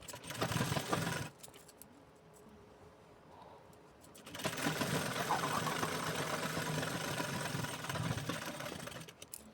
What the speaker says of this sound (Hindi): फोल्ड करके और फिर मैं सिलाई लगा दे रही हूँ